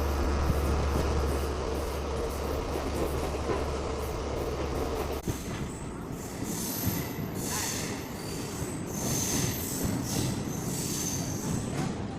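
A MEMU passenger train pulls into Ramapudi railway station on the Machilipatnam to Vijayawada line, its wheels squealing loudly along with a heavy rolling rumble that thins out after the first few seconds, leaving scattered high screeches.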